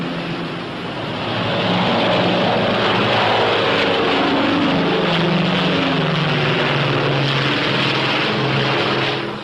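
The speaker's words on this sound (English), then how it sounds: "the P-61A takes off like a homesick angel" Engines of a P-61A Black Widow night-interceptor aircraft roar steadily during takeoff, a loud, dense propeller drone that swells within the first two seconds and holds with no voices.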